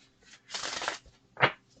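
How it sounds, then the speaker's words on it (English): Tarot cards being shuffled up close in two quick riffling bursts separated by a short pause, soft and dry in a quiet room. "I think I'm going to shuffle everything."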